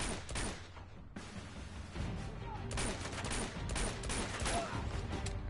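Distant gunfire rattles in quick, uneven bursts during a firefight in the video game Uncharted 2: Among Thieves, faint and far off under a steady background wash, with a voice talking briefly.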